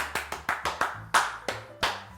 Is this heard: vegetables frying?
no